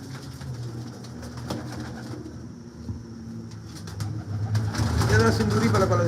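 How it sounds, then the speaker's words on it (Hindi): Sindoori Palak breed pigeons kept at a breeder's loft, soft cooing and low murmuring carrying steadily throughout, growing slightly louder near the end, with people talking nearby. "ये आपको कबूतर इस वक्त दिखा रहे हैं।"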